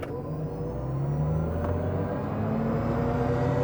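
A Chevy Silverado EV RST electric pickup launches from a stop at full power, its drivetrain whine and road rumble rising steadily and loudly, with rushing noise building as it gains speed.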